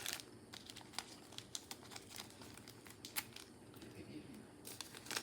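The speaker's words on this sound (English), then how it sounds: "I'll just take the little piece of tape off." A small piece of tape is peeled and crinkled off medical tubing during a Remodulin infusion change, soft close crackling with little ticks and rustles.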